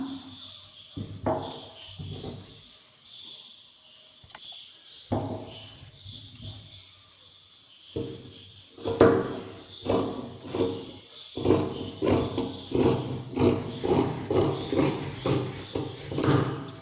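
Scissors cut through churidar fabric, at first in scattered crunchy snips between quiet gaps, then in a steady run of rhythmic cuts close by.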